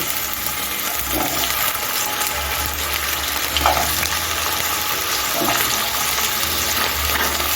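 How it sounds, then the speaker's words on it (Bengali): Taro pieces fry in hot white oil in a non-stick pan over a medium gas flame, giving a steady, loud sizzle with occasional stirring scrapes. "এখন আমি বাটি কচুগুলো হালকা করে একটু ভেজে নেব"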